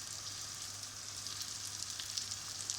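Eggplant frying in hot oil with tomatoes and spices just added, a steady close hiss and sizzle without a break.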